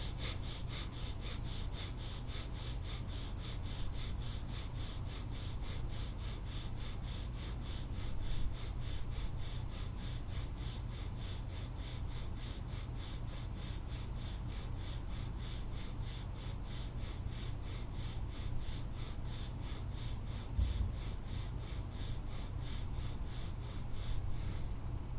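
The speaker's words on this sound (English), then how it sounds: "We'll begin breath of fire or bellows breath." Rapid bellows breathing in a breath-of-fire exercise, a steady fast rhythm of sharp snorting exhales through the nose, sustained evenly and close for the whole stretch with no talk.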